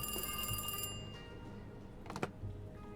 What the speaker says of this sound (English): Is there a phone ringing somewhere?